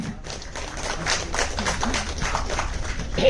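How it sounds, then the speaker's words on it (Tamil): An audience at a Tamil series launch event claps to welcome director Sargunam and the team on stage: a steady, dense wash of many hands clapping that holds for the whole stretch. "நல்லா கைத்தட்டல் கொடுக்கலாமே"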